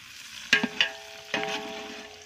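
Green chilies frying in a pan for biryani give a soft, low sizzle, broken by a few sharp clacks of stirring, all fairly quiet and without any voices.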